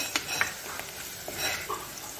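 Chopped onions frying in a pan for baigan machchi salan, a soft continuous sizzle with light stirring scrapes and a few small clinks, close and unaccompanied by speech.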